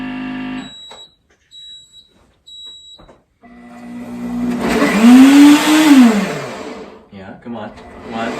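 A vacuum blender whirs up while blending a raw vegan smoothie, rising to a loud, whining motor roar that climbs and falls in pitch. Short electronic beeps come just before it starts, and a voice talks at the edges.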